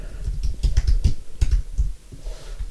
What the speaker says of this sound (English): Let's type create circle face.